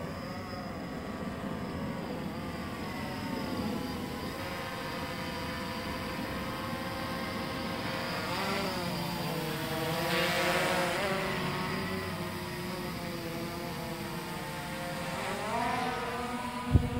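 A Blade 350 QX3 quadcopter drone flying outdoors, its steady buzzing rotor whine drifting up and down in pitch as it maneuvers at moderate distance, with no voices.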